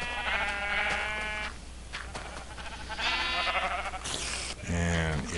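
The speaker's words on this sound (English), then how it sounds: "64 extremely bouncy, extremely noisy sheep." Minecraft sheep bleating in a video game, several short wavering bleats spread across the moment, fairly close, with someone talking over and between them.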